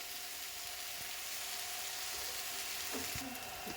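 Chopped tomato and onion frying in oil with cumin, a dense, even hiss of sizzling close up, with a few faint clinks near the end and no speech.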